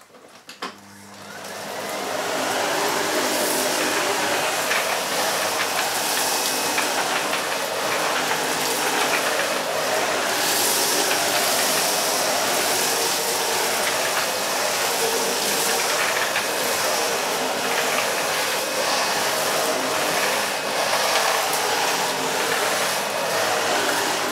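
A Miele Complete C1 Powerline Cat & Dog vacuum cleaner runs on its lowest suction setting, starting up and then holding a steady, loud, broadband whir for over twenty seconds with no talking.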